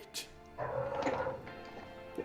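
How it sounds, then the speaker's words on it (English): A dog barks and yips in the background, a couple of short, faint calls heard through an open window. "Now we can hear the stupid dogs."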